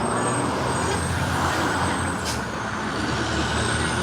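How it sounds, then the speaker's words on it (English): A truck carrying pigs rolls past on a Toronto street, a loud steady rumble of engine and road noise with a brief hiss partway through. "there's a truck that just went by"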